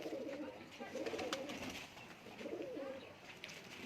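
Lakha pigeons at a loft in Nankana Sahib coo in soft, low rolling phrases that repeat twice over a steady hiss of background noise.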